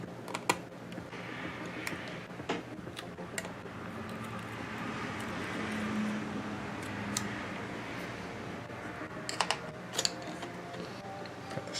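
Small screws being unscrewed from the speaker of a MacBook Pro during a battery replacement, giving faint, irregular clicks and ticks of a screwdriver and parts over a quiet room hiss, with no talking.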